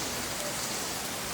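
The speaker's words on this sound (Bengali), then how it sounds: "এই দেখেন কত বৃষ্টি হচ্ছে।" Heavy rain pours down in a dense, even hiss of many drops, close and unbroken for a brief moment.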